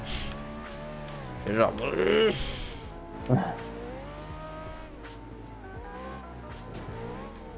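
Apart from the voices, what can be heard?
car engine noise in a racing video game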